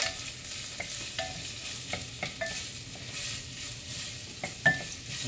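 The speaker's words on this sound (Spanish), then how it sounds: "Vamos a revolver." Chopped vegetables stirred in a pot for chicken noodle soup over raised heat, giving a soft continuous sizzle with occasional light scrapes and clicks of the utensil against the pot, fairly quiet.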